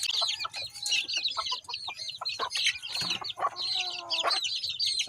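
On a small farm, a rooster gives repeated short clucks close by over a steady chorus of other birds, with no voices.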